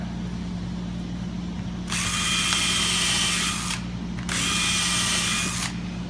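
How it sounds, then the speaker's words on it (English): A power drill fastening wood whirs loudly in two bursts of about two seconds each, separated by a short pause, over a steady low machine hum. "then we can drill and fasten this at the same time"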